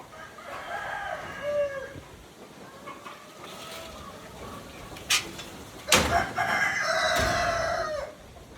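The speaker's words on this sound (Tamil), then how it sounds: "இது வந்து ஒரு பொட்டைக்கோழி, ஒரு சேவல்" A hen and a rooster on a farm cluck in short bursts, with the rooster crowing loudly near the end, close by over a quiet background.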